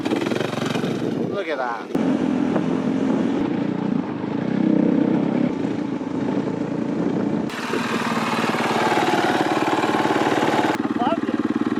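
A dirt bike engine drones and revs at a distance as the rider heads out for another round, a buzzing rise and fall under people talking nearby.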